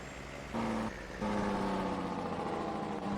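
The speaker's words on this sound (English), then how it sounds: "Jake brake kicks on." A heavy truck's engine brake in Farming Simulator 22 kicks in with a steady low droning rumble and harmonic tone that steps up in loudness partway through, running continuously with no talking.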